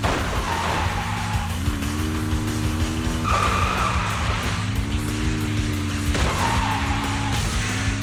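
Continuous engine drone of a car in Zenless Zone Zero's Tour De Inferno race, with rising revs and repeated tire skids squealing through the run, loud and steady with no voices.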